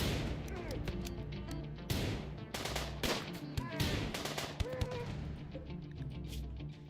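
Gunfire crackles during a raid in the colony game RimWorld, with irregular sharp shots and bursts over a steady background, moderately loud, with faint voices underneath.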